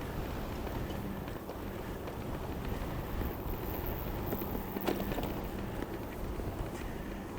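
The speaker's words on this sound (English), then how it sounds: "This is actually quite a strong wind now." Strong New Zealand wind buffets a microphone in gusty bursts, a continuous roaring rush with occasional louder thumps.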